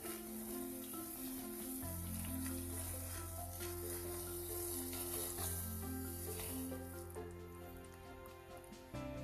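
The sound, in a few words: rice rava being added and mixed in a pan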